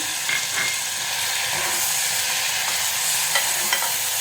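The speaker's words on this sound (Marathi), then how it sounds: "छान परतून घ्यायचं ते मिश्रण साधारण एक मिनटं आपण ते परतणार आहोत" Cashew and fresh coconut paste sautéed in a hot pan gives a steady close sizzle with occasional scraping stir strokes, no voices.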